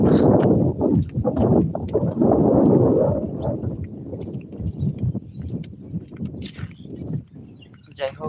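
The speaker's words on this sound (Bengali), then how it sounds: "এরকম পরিমাণ কি পরিমাণ বাতাস" Strong wind buffets the microphone in loud, rumbling gusts while a person talks, easing somewhat toward the end.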